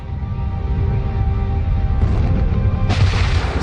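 A rumbling, booming explosion effect portrays a star blowing apart as its iron core collapses, a loud low roar with layered blasts swelling midway and a sharper burst near the end, with no talking.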